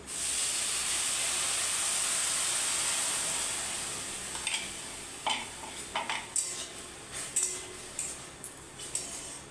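Milk poured into a pan of stirred carrots for a sweet: a steady hiss for about four seconds, then a run of sharp spoon-on-pan clinks and scrapes as the mixture is stirred, close and fairly quiet.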